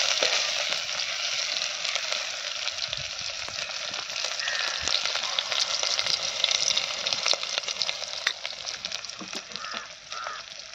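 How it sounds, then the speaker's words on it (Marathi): Vajadi fries in plenty of oil in a pan over an outdoor wood-fired stove, making a continuous bright, crackling sizzle up close with no one speaking. "चांगला तेल टाकून आणि लाल तळून घ्यायचा"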